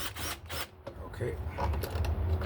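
Close, irregular ratchet clicking comes from a hand tool loosening the throttle body bolts on a Chevy Colorado, with someone talking over the work.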